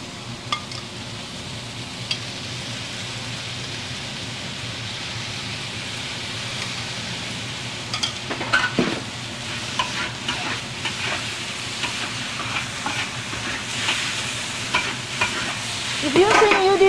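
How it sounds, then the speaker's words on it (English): Shrimp Pad Thai noodles being stir-fried in a pan, giving a steady broadband sizzle with scraping, clattering stirring strokes that pick up in the later seconds and grow louder near the end. "cook until the noodles soften a little bit"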